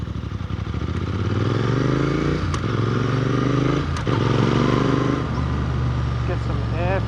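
A motorcycle rides along a road on the Gold Coast, Australia, its engine a loud steady drone close by with wind noise and small shifts in pitch, while someone talks over it.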